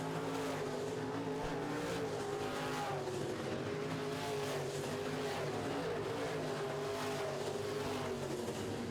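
Modified race cars roar around a dirt track in a feature race, their engines making a loud, continuous, layered drone that rises and falls as the pack passes.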